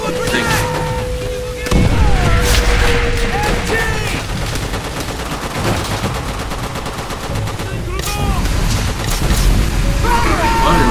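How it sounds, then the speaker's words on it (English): Chaotic Call of Duty: World at War firefight with a grenade blast booming out amid continuous gunfire and more explosions, while voices shout over the din. "Shit! Grenade!"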